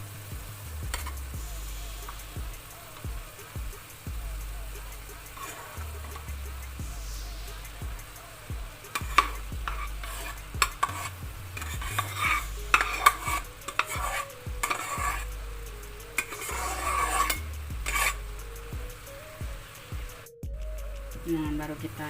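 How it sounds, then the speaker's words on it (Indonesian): Cooked rice stirred and fried in a pan for nasi goreng: a steady sizzle under repeated rhythmic scraping and tapping of the spatula against the pan. A voice occasionally speaks faintly in the background. "Kita buka ya pemirsa, kita aduk-aduk. Kita akan masukkan nasinya tadi."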